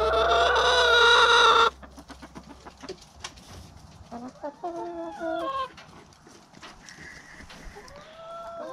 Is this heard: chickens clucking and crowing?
yes